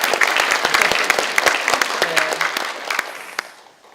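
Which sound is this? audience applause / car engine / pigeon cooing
audience applause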